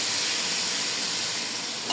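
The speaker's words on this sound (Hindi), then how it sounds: "चिकन डाल दिया मम्मा ने" Chicken pieces sizzle and fry in a pot with browned onions, tomatoes and ginger-garlic paste, a steady, dense crackle and hiss running close and loud throughout, with no talking.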